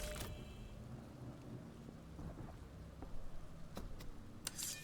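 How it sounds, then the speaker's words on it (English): Heavy rain and thunder in the Napoleonic-era strategy game Master of Command, a quiet steady rain hiss with low rumbling and a few sharp crackles near the end. "Good grief, it's raining hard."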